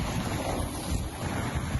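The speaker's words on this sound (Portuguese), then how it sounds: "a ventania chegou a 72 km por hora e deixou o mar agitado" Strong wind gusting to 72 km/h whips along the coast at Joinville over a rough, agitated sea, a loud, unbroken roar of surf with heavy wind buffeting against the microphone.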